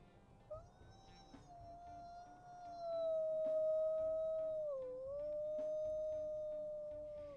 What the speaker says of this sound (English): Oh, that's a really high-pitched howl